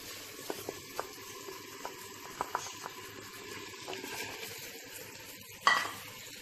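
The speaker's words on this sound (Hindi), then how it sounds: "अब हम इसे इतना भूनेंगे कि इसका सारा वाटर जो है ड्राई हो जाए और अच्छे से ये भुन जाए" Chicken sizzles in masala in a clay pot, a soft continuous fry broken by regular light scrapes and clicks of stirring, then a sharper knock near the end. No one speaks.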